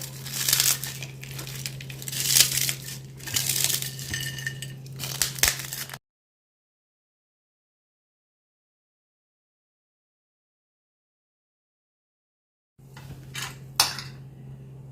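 Roasted papad crushed by hand for papad chaat, giving crisp crackling and crinkling bursts close up with faint clinks of a dish. The sound breaks into a long silence, then a short final flurry of crunches.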